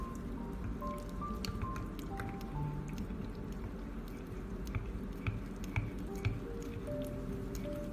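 Black pigment liquid is stirred into lip gloss with steady, soft wet squishing and faint sticky clicks, all close up and continuous, with no talking.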